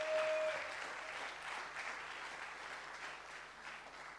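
Church congregation applauding visitors during a service, a steady wash of clapping from many hands throughout, fairly even in level with no talk over it.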